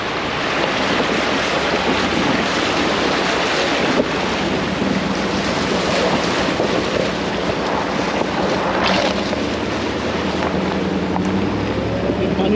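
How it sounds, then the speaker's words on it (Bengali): Rainwater rushes down mountain slopes near the Oman border, a loud, continuous broadband roar of flowing water mixed with wind buffeting the microphone, with no pauses. "এগুলো পাহাড়ে পানি নামতেছে।"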